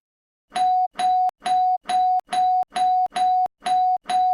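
A doorbell rings over and over in a rapid, even rhythm, eight ding-dong tones in quick succession, loud and close.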